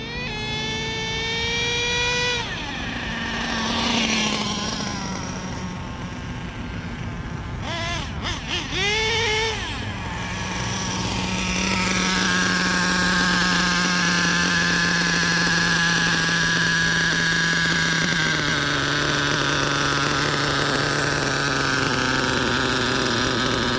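HPI Savage GT-6XL RC truck running a modded LRP .32 nitro engine with a Raptor pipe, a loud, high-pitched engine scream that rises and falls with throttle, then settles into a sustained steady drone.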